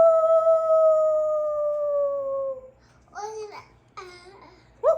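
A human voice imitates a coyote howling outside, giving a long falling howl and then several shorter wavering 'woo' calls, close and clear in a quiet room.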